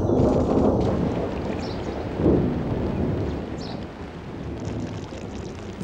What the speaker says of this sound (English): heavy rains wreak instant havoc.